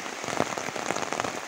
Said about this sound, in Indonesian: hujan sangat deras sekali nih.